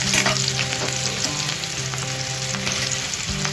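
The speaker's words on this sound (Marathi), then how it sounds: "कांदा आपण बदामी कलरचा करून घ्यायचा, जास्त फ्राय करायचं नाही कांद्याला" Chopped onion sizzles and fries steadily in a hot pan until light brown, a close, continuous crackle with occasional stirring scrapes and no voices.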